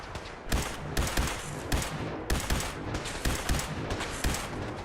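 Rapid bursts of gunfire in the video game Fallout 4 crack in quick succession, loud and dense, with sharp shot peaks recurring throughout like a sustained firefight.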